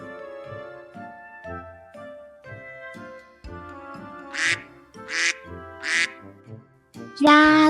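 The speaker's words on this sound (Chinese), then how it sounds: "鸭子" A duck quacks three times in an evenly spaced row, loud and near, over a light, bouncy children's tune that ends in a brighter burst.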